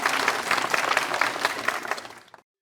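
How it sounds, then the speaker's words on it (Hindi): Applause from a small gathering in a Pakistani TV drama scene, a brisk burst of many hands clapping close by for about two seconds before stopping abruptly. "तालियां तालियां।"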